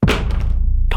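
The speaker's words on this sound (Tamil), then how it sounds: "நம்ம எப்பவுமே பண்ற ஒரு டிராப் டெஸ்ட் பண்ணி பார்த்துருவோமா? ரெண்டுமே டுகெதர்." Two vivo V70 phones dropped together in a drop test hit the floor with a single sharp, close thud at the start that rings down quickly, followed by a short scuffing noise at the end.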